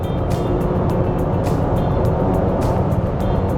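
A Honda CR-V accelerates in sport mode with an artificial engine sound piped into the cabin: a steady, loud interior drone and road roar with faint periodic ticks, and no one speaking.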